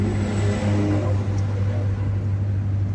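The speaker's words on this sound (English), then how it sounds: "big logging truck" Big logging truck passing on a back road, a loud close engine rumble with a steady low drone and a brief swell as it goes by, heard from inside a moving vehicle.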